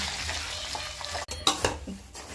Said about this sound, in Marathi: आपण त्यामध्ये चिवडा मसाला, लाल तिखट, हळद आणि चवीप्रमाणे मीठ घालून छान हलवून घेऊ